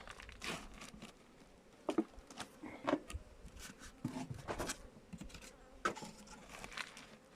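Honey bees at a weak beehive in late autumn around 24-25 degrees, giving a soft buzzing drone with scattered crinkling and tapping handling noises nearby, moderately quiet throughout.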